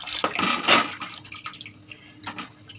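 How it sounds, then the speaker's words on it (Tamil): Water splashes and trickles into a pot of lentils for sambar in a few uneven pours, with bubbly, sloshing bursts close by. "தேவையான அளவு தண்ணி சேர்த்துக்கலாம்"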